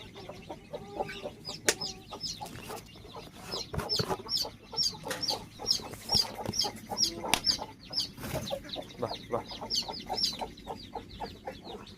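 Several caged hens, including a grey hen, clucking and chattering in quick bursts, with scattered knocks and rustling nearby, moderately loud throughout.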